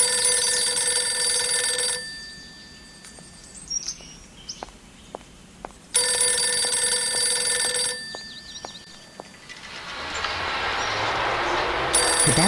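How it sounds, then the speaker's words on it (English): A telephone rings in the video game Voyage to the Center of the Earth: two loud, bright, sustained electronic ring bursts separated by a quieter pause with faint clicks, followed by a different rising wash of game sound. "Could that be a telephone ringing?"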